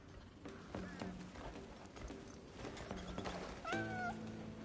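Cat meowing in the video game Crimson Desert, several short meows heard over busy game ambience and background music, with hooves clopping and a voice speaking at times.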